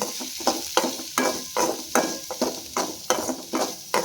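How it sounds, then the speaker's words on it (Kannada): Okra fries in a pan with onion and garlic paste, sizzling continuously under a regular rhythm of spatula strokes stirring against the pan, close and fairly loud with no talk. "ಮತ್ತು ಅತ್ತ ಬೆಳ್ಳುಳ್ಳಿ ಪೇಸ್ಟನ್ನು ಹಾಕ್ತೀನಿ ಸ್ವಲ್ಪ ಎಲ್ಲ ಹುರ್ಕೋತೀನಿ ಇದನ್ನು"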